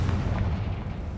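A Confringo spell blast in Hogwarts Legacy gives a loud, deep explosive boom with a rumbling low-end tail, heard alone and with no talking.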